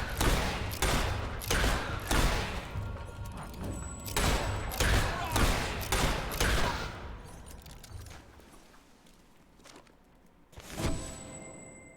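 Rapid gunfire from the video game Fable 3 cracks in repeated loud volleys of booming shots, then fades to a lull before one more heavy blast, with faint voices at times.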